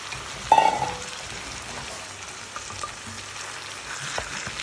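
Potatoes dropped into a pan of cooked, soft peas, a brief clattering thud followed by a continuous, moderate crackling sizzle close by, with no talking.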